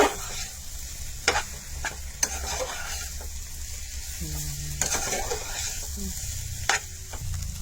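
Potato and paneer curry spiced with cumin, cardamom, cinnamon and garam masala, stirred in a hot pan: a continuous frying sizzle with intermittent spoon scrapes and knocks against the metal, close and moderately loud.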